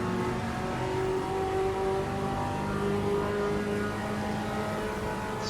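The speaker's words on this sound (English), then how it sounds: "The Chevette going very wide on that corner" A Chevrolet Chevette's engine in the Automobilista 2 racing game at Interlagos GP, holding a steady, loud droning note with a sustained tonal whine from start to finish and no voices.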